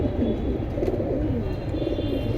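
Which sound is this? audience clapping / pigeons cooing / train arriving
pigeons cooing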